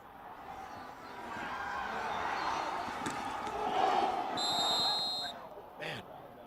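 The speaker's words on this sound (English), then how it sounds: "you can hear the crowd reacting" Crowd noise at a high school semifinal football game, a broad rising and falling roar from spectators, moderately distant, with a brief whistle-like tone and scattered shouts.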